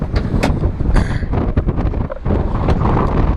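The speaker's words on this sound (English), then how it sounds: "it is very, very windy out" Strong wind buffets the microphone outdoors beside a 2007 Acura TSX with its hood open, in loud, continuous low rumbling gusts, with no one speaking.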